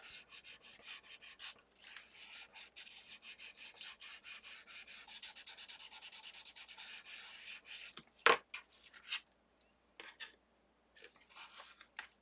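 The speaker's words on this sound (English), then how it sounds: "So I'm just going to give it a good burnish." Paper being burnished onto an altered paper clip, a steady close rubbing scrape repeated in quick strokes for about eight seconds, then a sharp tap and a few scattered handling sounds before quiet.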